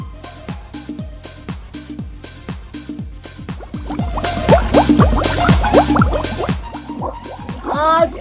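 Water drips fall one after another in a steady rhythm, each a bright, plinking drop. They grow denser and louder toward the middle before ending in a quick flurry of drops.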